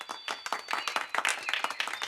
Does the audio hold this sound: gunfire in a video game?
no